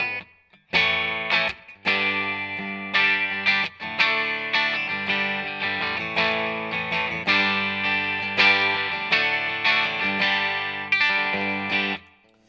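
A Danelectro 59XT electric guitar on its bridge humbucker, clean, playing sustained chords with a bright, full tone, strummed in bursts with brief pauses between phrases.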